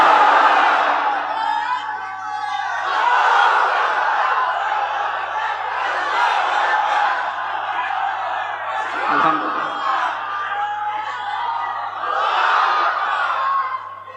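A large crowd at an outdoor Islamic waz sermon gathering at a madrasa ground roars a sustained chant of takbir, loud and continuous for the whole stretch, with swelling voices and brief dips, close and dense.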